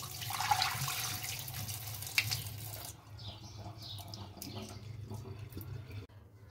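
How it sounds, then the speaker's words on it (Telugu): Horse gram lentils being washed by hand in a vessel of water give a steady close wet sloshing and splashing with a few brighter drips and swishes, continuous throughout with no talking. "నీళ్లు పోసుకుని బాగా కడగాలండి. ఇలా కడుక్కోవాలి."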